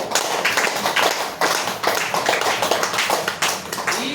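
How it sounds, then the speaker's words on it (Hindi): An audience claps at a talk promoting a Ganoderma herbal remedy, a loud, rhythmic run of clapping bursts that pulse roughly every half second with no voices over them. "इस जड़ी बूटी के नाम पर जबरदस्त ताली होना चाहिए।"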